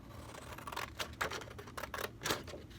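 Scrapbook paper being cut with scissors, a close, quiet run of short crisp snips in an uneven rhythm with brief pauses between cuts.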